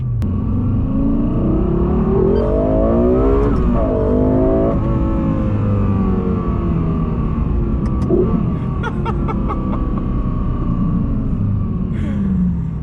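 A Lexus LFA sports car engine revs and accelerates at about quarter throttle with a smooth, rising tone, loud and close, then holds a steady rumble with a few brief clicks.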